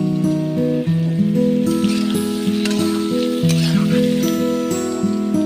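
Boiled potatoes frying in hot oil with cumin and turmeric give off a steady, crackling sizzle, loud and close, with faint background tones and no talking.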